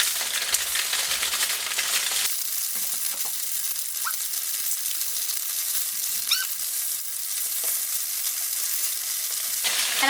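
Tofu slices fry in a hot pan with a loud, steady sizzle and crackle throughout, broken by a few brief metallic clinks and squeaks as the pieces are flipped.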